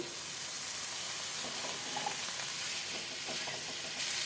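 Boiled chickpeas frying in a spice masala for restaurant-style chole paneer, producing a steady close hiss and sizzle of oil, with faint stirring clicks scattered over it.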